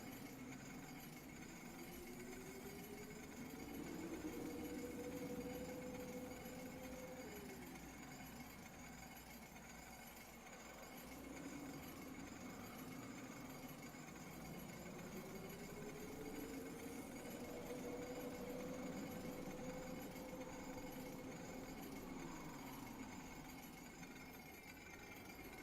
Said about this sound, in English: Crank the engine.